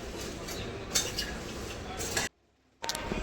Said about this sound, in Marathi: चिवड्यासाठी मी भडंग मुरमुरे घेतले आहेत आणि ते मस्त असे भाजून घेते